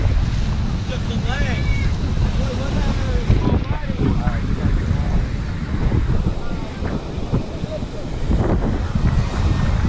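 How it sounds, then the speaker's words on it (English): Strong wind buffets the microphone at Clearwater Beach in Florida, a steady broadband roar that runs throughout, with surf and faint voices mixed underneath. "it's very windy today"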